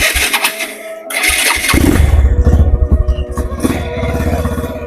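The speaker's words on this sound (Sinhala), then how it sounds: "මේක මේ ස්විච් එක දාලා ස්ටාර්ට් දෙන්න තුනේ." An engine cranks and catches after the switch is turned on, the starter whirring briefly before a loud, close motor settles into a steady rough idle with rattling clatter.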